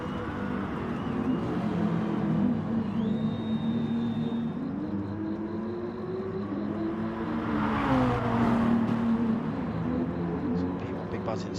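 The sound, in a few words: BMW and Audi GT3 race cars at Spa, racing video game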